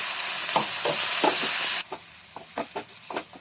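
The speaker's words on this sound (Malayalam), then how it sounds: "അങ്ങനെ തക്കാളി ചട്നി തിളച്ചു വന്നു" A pan of thick tomato chutney with Kashmiri chilli sizzles and hisses, then quiets to soft bubbling pops and occasional stirring taps.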